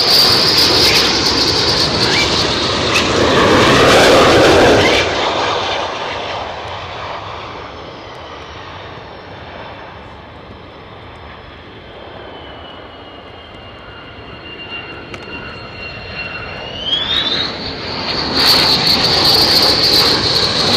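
Fighter jets at RAF Lakenheath roar loudly past at close range, the blast fading to a long whining engine drone before a second jet surges in loud again near the end.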